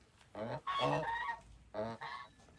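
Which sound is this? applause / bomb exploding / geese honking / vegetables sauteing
geese honking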